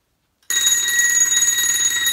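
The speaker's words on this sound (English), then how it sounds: "The alarm goes off and the child can see the alarm because the light's on" A Ramsey Coote bedwetting alarm suddenly starts after a short silence, sounding a loud, steady electronic tone with rapid pulsing that continues without a break.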